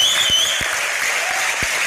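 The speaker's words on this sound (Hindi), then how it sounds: "आप सब एक बार आले के लिए जोरदार तालियां" A studio audience on a comedy talk show claps loudly and continuously, a dense even roar of applause with a thin high tone above it.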